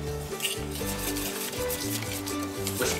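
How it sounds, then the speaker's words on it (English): Eggs whisked into pancake batter in a bowl, a steady, brisk scraping and stirring that runs continuously and close, with no talking. "Whisking vigorously to make sure you get all the lumps out of there, and you end up with your batter lovely and smooth"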